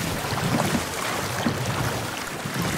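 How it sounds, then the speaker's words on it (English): Ship rolling over ocean waves in the pirate game Sea of Thieves, a steady wash of water and wind noise with low rumbling swells, continuous and moderately loud with no talking. "I'm riding a wave right now."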